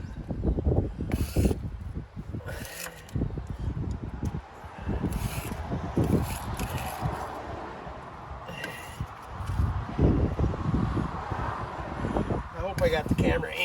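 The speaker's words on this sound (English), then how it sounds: "So now I'm going to start scraping the grease off." Grease is scraped off a skid loader being prepared for a replacement engine, giving irregular close scraping and clanking metal sounds in bursts, with someone talking throughout.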